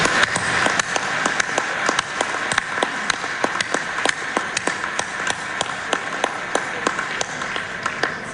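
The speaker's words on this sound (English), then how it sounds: "I would like you to give yourselves a round of applause" A hall audience at a UKIP party conference in Torquay, 2014, breaks into sustained applause, dense overlapping hand claps with a steady loud roar and a few sharp individual claps standing out, no talk over it.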